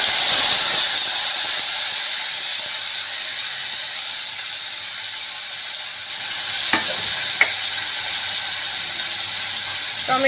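Grated tomato hitting hot oil in a pan with whole cumin, cloves, cardamom and cinnamon: a loud, close, continuous sizzling hiss that eases slightly as it is stirred, with a couple of sharp utensil taps.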